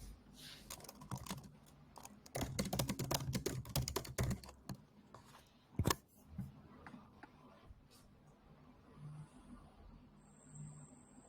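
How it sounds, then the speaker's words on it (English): Rapid computer keyboard typing picked up faintly through a meeting microphone, with dense bursts of clicking keystrokes, a sharp louder tap near the middle, then sparser scattered clicks fading out. "With that in mind, oh, Jeff is typing."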